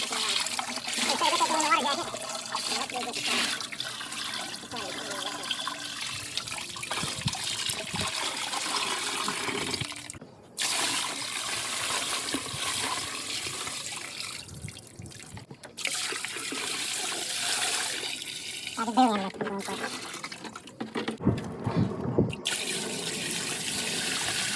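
Water from a hose runs steadily into a 55-gallon drum holding molasses, an engine block and cylinder heads, a broad splashing hiss with slight gurgling, close and continuous with a few short breaks.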